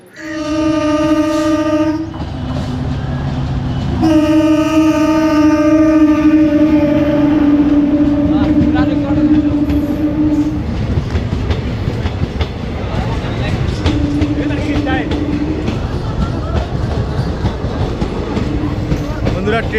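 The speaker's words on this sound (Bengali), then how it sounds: "ট্রেন অলরেডি চলে এসছে" A train pulls into a station near Mandar Hill, Banka, Bihar, with long, loud horn blasts, followed by the rumble and clatter of wagons rolling past close by.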